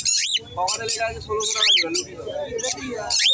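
Cockatiels and other caged birds at a pet bird market chirp and squawk in sharp, repeated bursts, close and loud, while people talk over them.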